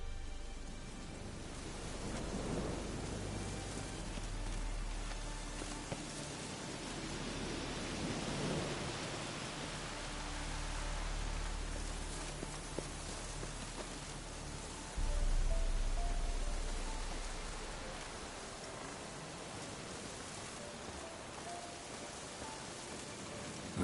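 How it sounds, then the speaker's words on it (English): Steady rain hisses through a Witcher 3 game scene, with low rumbling thunder swelling now and then beneath the constant downpour, no voices present. "Looks like rain."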